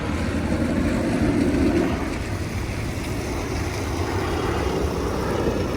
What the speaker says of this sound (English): Where are the military planes?